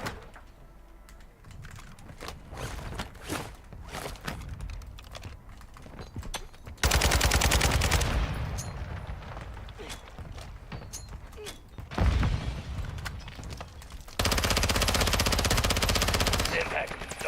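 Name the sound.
mortar strike explosions in a video game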